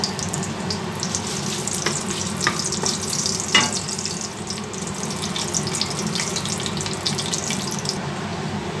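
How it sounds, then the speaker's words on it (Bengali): Steady loud sizzle of five or six bay leaves frying in hot oil, a continuous crackling hiss with a few sharper pops, close by. "তেল আমার গরম হয়ে গেছে, তাই আমি 5-6টা তেজপাতা এর মধ্যে দিয়ে দেবো"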